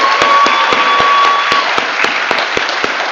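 Audience applause at a commencement ceremony: steady, dense clapping from a large crowd, with a few sharper individual claps standing out at a regular pace, loud and continuous throughout.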